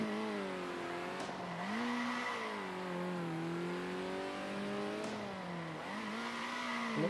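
Race car engine in the Circuit Superstars video game, revving and shifting through gears with rising and falling pitch, plus brief tire squeals. It's steady and fairly close, with no talking.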